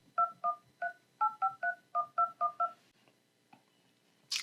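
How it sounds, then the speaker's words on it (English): Google Pixel 9 phone keypad dialing tones: about ten short, evenly paced beeps as a number is entered, clear and close, followed by a brief soft tap and a faint high click at the end. "Let's type in a phone number."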